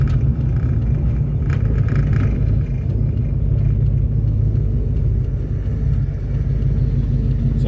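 Interior of a Dodge Challenger with a swapped-in 518 automatic transmission driving along, a steady loud low engine rumble and road drone without clear revving or shift changes.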